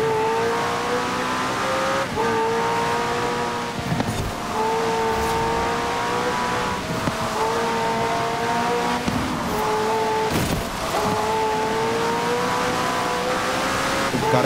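A McLaren Senna supercar racing in Forza Horizon 4: a loud, close engine revs high repeatedly, dropping in pitch at each gear change every few seconds, with occasional tire squeal and no talking.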